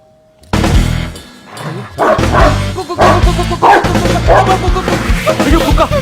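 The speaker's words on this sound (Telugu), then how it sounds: "అయ్యో, కుక్క." A dog barks loudly and close at a home's door, a rapid string of sharp barks and yips after a brief quiet moment, continuing almost without pause.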